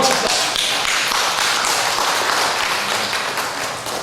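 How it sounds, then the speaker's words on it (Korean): A church congregation claps together, a loud, dense and continuous burst of applause filling the hall with no talking over it. "박수 한번 칩시다."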